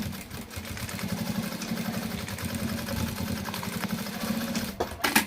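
A domestic sewing machine runs steadily with a rapid, even mechanical chatter as it stitches fabric for a bag, close and continuous, then stops briefly near the end before a short burst resumes.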